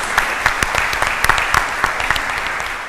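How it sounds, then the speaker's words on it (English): A conference audience at an international political science meeting claps for presenters and commentators, steady loud applause with sharp individual claps standing out, no talking. "please give the big round of applause to our presenters and the commentators"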